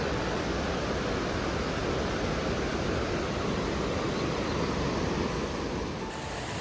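The Pindar River rushes below Himalayan waterfalls on the trail to Pindari Glacier. Loud, unbroken broadband roaring water fills the whole stretch close up.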